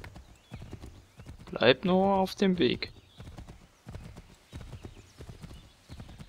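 In the video game Assassin's Creed 3, a ridden horse's hooves clop in a steady rhythm, with a loud whinny partway through and a character's voice speaking over it.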